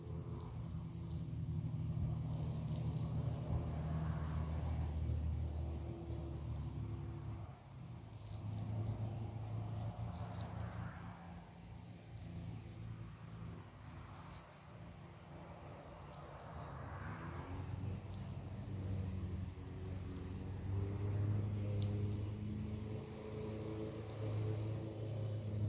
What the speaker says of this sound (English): we'll come back through here and water it in again